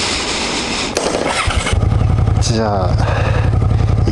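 A dirty Suzuki Gladius 400 motorcycle starts up and settles into a steady, close idle with a fast pulsing beat, after a brief voice speaks over the opening moments.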